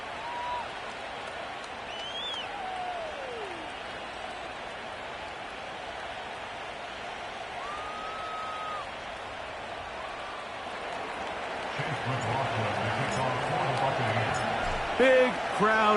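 A large stadium crowd at an American football game at Wembley, with the Buccaneers playing, roars as a steady wash of noise that swells toward the end, while commentators talk over it.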